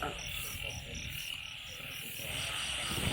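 Frogs croak in a steady pulsing chorus with insects trilling behind, a quiet outdoor night ambience with no talking.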